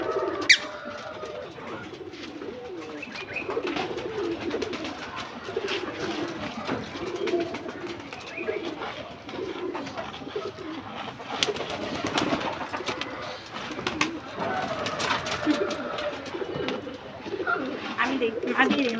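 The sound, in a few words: pigeons cooing while being fed on a rooftop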